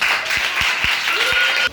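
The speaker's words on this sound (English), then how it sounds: "Let's clap for them" A group claps for students in a creative arts class, a brief burst of steady clapping with a few sharper low thumps and a tonal hum underneath, stopping abruptly.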